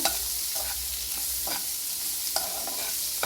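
Sweet corn fries in butter for a crispy corn snack, giving a constant loud sizzle with periodic stirring scrapes in the pan, close up and without talk.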